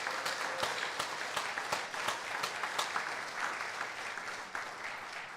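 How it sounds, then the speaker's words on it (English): Applause from a church congregation thanking a reverend during a service: continuous crowd clapping with a few sharper individual claps standing out, moderately loud and steady for about five seconds, with no talk over it. "I want you to give a big thank you, a round of applause to Reverend Grace Telesco"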